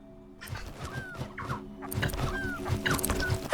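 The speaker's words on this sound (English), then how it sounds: "Hey! Hey, you stupid birds! Shut it up!" Squawking birds in the video game Earth Must Die, clucking fowl-like calls in a loose cluster that grow busier and louder toward the end, set against a faint steady hum.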